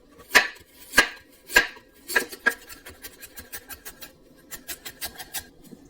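A knife chops radish into matchsticks on a cutting board: first a few slow, heavy strokes, then a quicker, even run of lighter chops, close and crisp with no voices.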